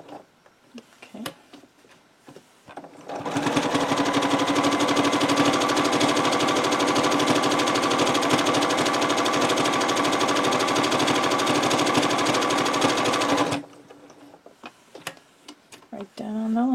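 A sewing machine runs steadily for about ten seconds, stitching along a line with a short back stitch, loud and close, with a dense continuous whirr between quieter stretches of handling noise.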